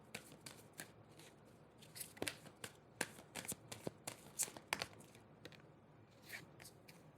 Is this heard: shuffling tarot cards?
yes